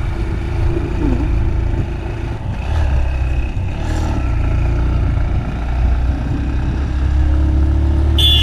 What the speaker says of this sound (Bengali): বাইকের অনেক কষ্ট হচ্ছে